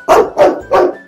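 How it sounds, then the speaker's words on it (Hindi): A dog barks three times in a steady rhythm, each bark loud and close, with brief quiet gaps between them and no talking over the sound. "इसलिए मेरे ऊपर भौंक रहा है ये।"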